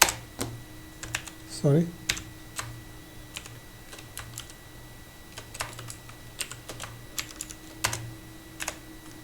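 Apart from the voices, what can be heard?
typing a formula on a computer keyboard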